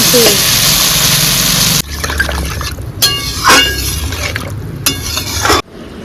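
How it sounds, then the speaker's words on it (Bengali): Water pours into a pan of shol fish curry with cauliflower, a broad splashing wash about two seconds long, followed by stirring and scraping clatter in the pan. "এইবার আমি জল দিয়ে দেবো"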